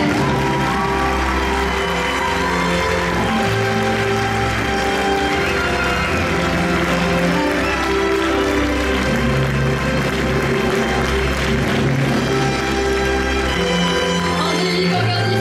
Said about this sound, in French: Miss France 2025, Angélique, on l'applaudit bien fort s'il vous plaît.